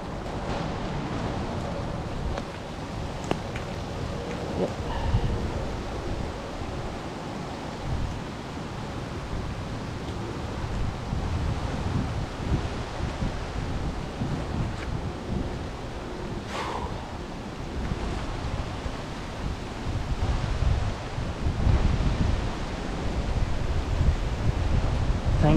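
Steady rushing wind with broadband roar and buffeting, occasionally rising in gusts up to 50 mph in rural Pennsylvania, with faint rustling and no voices.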